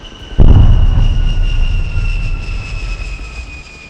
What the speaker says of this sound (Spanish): Helicópteros y aviones de los Estados Unidos han entrado al cielo de Caracas.